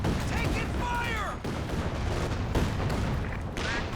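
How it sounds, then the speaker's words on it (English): Artillery barrages pounding in a Company of Heroes 2 match, a dense roar of explosions and gunfire with rolling booms, heard close and loud under a commentator's continuous talk. "Needs to cancel these barrages"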